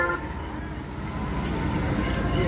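Busy road traffic with vehicles honking during the Chinchni Mayaka yatra: a steady engine and road rumble runs throughout, with sustained horn tones rising over it, fairly loud and close, and faint voices in the background.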